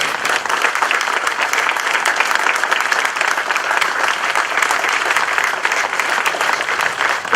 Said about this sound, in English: I'd like to take this moment to just applaud every veteran in this audience today